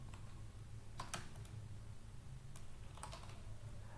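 Keys clack on a computer keyboard as Hindi text is typed, a few quiet isolated key presses over a steady low hum, faint and close.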